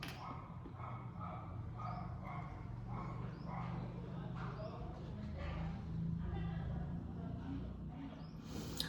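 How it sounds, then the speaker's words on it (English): A female house dog barks and yips repeatedly throughout at moderate distance, the short calls recurring over a constant low background hum. "excuse my dog also because she's going to be barking all through the time."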